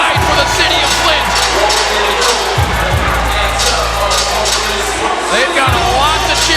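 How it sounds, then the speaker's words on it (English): A large crowd roars and cheers continuously at a women's boxing match in Flint, with loud layered shouts and whoops filling the arena and some voices audible in the din. "They've got a lot to cheer about right now."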